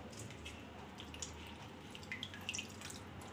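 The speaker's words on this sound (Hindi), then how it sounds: "इसके अंदर चूना जो होगा अच्छे से धो लेंगे तो निकल जाएगा।" Pieces of petha (ash gourd) are washed in water, heard as faint, close sloshing with scattered small drips and splashes in a quiet kitchen.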